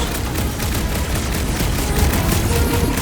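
Explosive barrage in the Marvel's Guardians video game as Rocket unleashes his 'Fireworks' attack, a dense, loud rattle of blasts and booms running continuously without pause, no talking heard over it.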